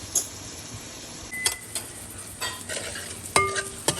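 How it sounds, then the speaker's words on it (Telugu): Onions and tomatoes fry in a pan, a soft continuous sizzle broken by several sharp stirring scrapes and knocks of a spoon against the metal. "ఇవన్నీ ఉల్లిపాయ వేసింది, చక్కగా టమాటా వేగిపోయింది"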